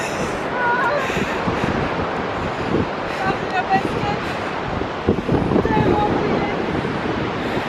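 A roaring waterfall near Quebec, heard up close as a loud, continuous broadband rush mixed with wind buffeting the microphone, holding steady for several seconds.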